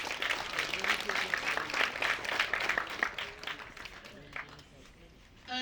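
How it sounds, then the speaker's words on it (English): Participants at a half marathon event give a round of applause, a dense wash of clapping that fades over a few seconds beneath a voice over the public address. "Give yourselves a round of applause."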